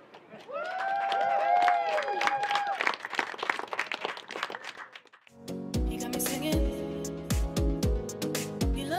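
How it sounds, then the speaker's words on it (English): A crowd at a girls' varsity high school soccer senior night gives a round of applause, dense clapping with cheers for the seniors, then sharper, sparser claps after a brief lull. "Let's please give a big round of applause tonight for all five of our seniors."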